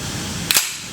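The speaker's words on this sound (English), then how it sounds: "Locks on empty, mag out," A magazine is pulled from a KWA airsoft M4 gas blowback rifle, producing a single sharp metallic click-and-slide lasting a fraction of a second, close up against a steady background hiss.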